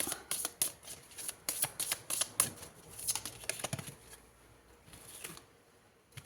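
Tarot cards being shuffled and drawn by hand, a run of crisp close slaps and riffles in uneven bursts, fading into softer handling at the end.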